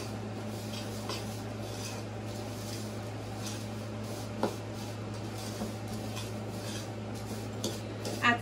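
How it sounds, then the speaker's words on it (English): Granola bar ingredients with chocolate whey protein mixed in a bowl, faint scraping and soft clinks of a utensil against the bowl, occasional small knocks over a steady low hum. "And we'll just mix that all in there."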